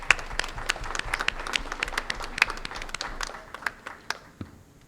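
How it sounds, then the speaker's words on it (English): Steady applause from an audience at a lung cancer support event, many hands clapping with sharp irregular claps standing out, fairly close and sustained before tapering off toward the end. "I'd like to ask for a round of applause for all of our supporters."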